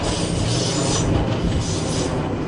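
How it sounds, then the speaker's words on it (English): A South Western Railway Class 455 electric train bound for Waterloo rolls past close at Clapham Junction, a loud continuous rumble with squealing wheels and rhythmic rail clicks. "Southwest Railway service to Waterloo."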